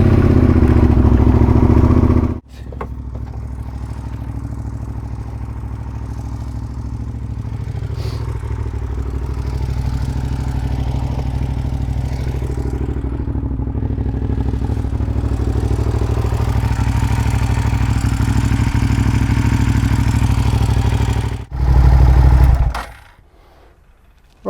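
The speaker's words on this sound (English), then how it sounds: "just going to start the bike up, get it nice and warm" A Suzuki SV 650 motorcycle engine starts and idles steadily to warm up with a low, even rumble and mechanical clatter, close by, then cuts off near the end.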